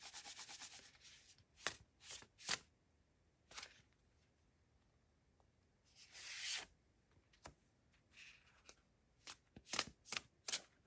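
A deck of tarot cards being handled and shuffled close by, with bursts of riffling and sliding separated by quiet pauses, and no voices.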